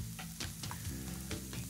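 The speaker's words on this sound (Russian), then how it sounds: "Ну пусть себе жарится" Chopped onion fries in a pan, a continuous close sizzle with a few scraping stir strokes over it, and no talking.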